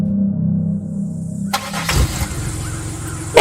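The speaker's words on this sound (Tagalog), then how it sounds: "Parang narinig ko po may nag-start ng sasakyan." A car engine cranks and catches about halfway through, a sudden burst of mechanical noise rising over a low steady hum and carrying on rough and close to the end.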